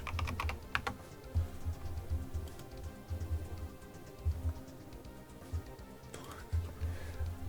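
Keys clatter on a computer keyboard as a web search is typed, in quick irregular bursts of close clicks, with a low hum underneath and no talking.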